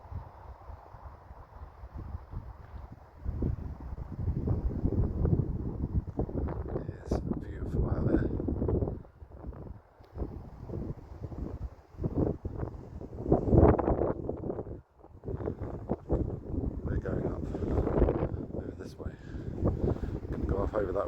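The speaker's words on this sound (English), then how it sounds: "I'm really sorry if it's windy" Strong wind buffeting a handheld microphone on a walk from Fox Hill in the New Forest, loud rumbling gusts that rise and drop in irregular surges, with someone talking intermittently beneath.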